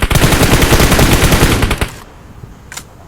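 Automatic gunfire in the mobile game PUBG Mobile: a loud, rapid burst of shots rattles continuously for about two seconds, then cuts off into near-quiet with a faint brief sound afterward.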